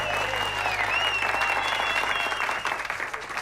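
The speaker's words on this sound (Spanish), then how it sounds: "Por favor, un aplauso para el maravilloso Halo Asimov." Audience applause at a Spanish-language mental health comedy show, as a performer is welcomed on stage: dense, steady clapping from a full crowd throughout, easing slightly near the end.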